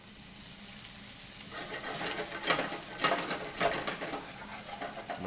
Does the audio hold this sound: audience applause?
no